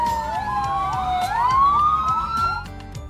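An ambulance siren on a city road wails loud and near, its rising and falling tone running steadily over traffic rumble, with no talk.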